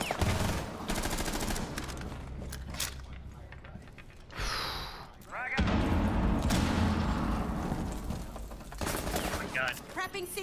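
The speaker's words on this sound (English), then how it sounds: "The shotgun." Shotgun blasts and gunfire in a first-person shooter video game, with several bursts and heavy rumbling over the length of the clip amid busy game noise, while game voices and sighs are also heard.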